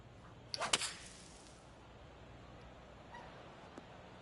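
A golf ball is struck for a second shot in PGA 2K25: one sharp, crisp crack near the start, then a short fading whoosh, with quiet crowd ambience afterward.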